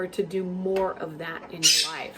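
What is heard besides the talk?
pet parrots squawking in the background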